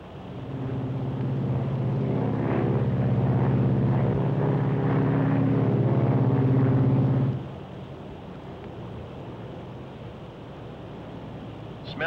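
Steady droning hum of Lockheed Super Constellation propeller engines fills the airliner cabin, loud and continuous, then drops abruptly to a quieter, lighter background rumble.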